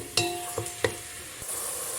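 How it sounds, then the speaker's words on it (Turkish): Soft frying sizzle of onion sautéing in oil in a pot, for chicken soup, interrupted by three sharp clinks of a utensil stirring against the rim. "bir tane soğan ilave edip güzelce soteliyorum"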